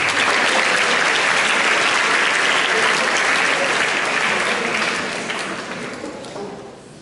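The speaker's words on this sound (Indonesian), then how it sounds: "Tepuk tangan buat Afen dulu" A school seminary audience in Kisol, Indonesia, applauds a student named Afen during a governor's visit, with loud sustained applause from a large crowd that holds steady, then gradually fades out over the last two seconds.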